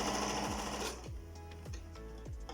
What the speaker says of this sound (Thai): ก็เลยมาเย็บ ลองเย็บกางเกงขาสั้นไป